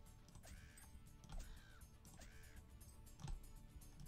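Three distinct bird caws in Mushroom Madness, evenly spaced and fairly faint, set over a low game background with no talking.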